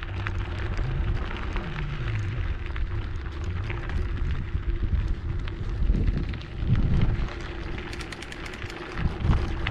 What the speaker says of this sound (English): these windmills tell you just what direction the wind's coming from